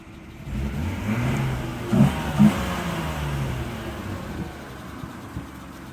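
Swapped six-cylinder engine in a BMW E36 idling at operating temperature, then two quick sharp revs in the middle before dropping back to a steady rumble, heard close up without talking.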